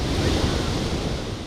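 Sea waves breaking on a shore, a continuous loud broadband rush of surf mixed with wind buffeting the microphone, no voices.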